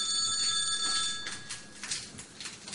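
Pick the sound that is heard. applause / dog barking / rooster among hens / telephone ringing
telephone ringing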